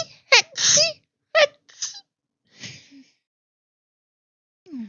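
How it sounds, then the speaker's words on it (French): A person sneezes up close, a few sharp gasping intakes building to a burst of sneezing, followed by quieter breathy sounds and a short sigh, with silence between. "j'ai envie d'éternuer."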